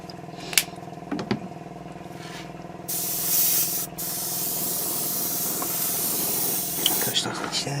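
An aerosol can sprays a light coat of paint onto a Pegasus Hobbies 1/32 T-800 endoskeleton model kit, a close steady hiss lasting several seconds after a few soft clicks and handling sounds.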